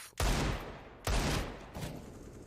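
Desert Eagle pistol shots in the competitive shooter CS:GO during a Virtus.pro vs NIP match, three loud booming reports roughly a second apart, each trailing off in reverberant decay.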